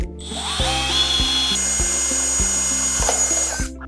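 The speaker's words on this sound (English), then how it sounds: "Drill out through the holes in the centre of the dispenser." A power drill bores holes through the centre of a plastic dispenser, its steady whine broken by about six short, evenly spaced bursts as the bit punches through. The drilling is loud, close and continuous, with no voices.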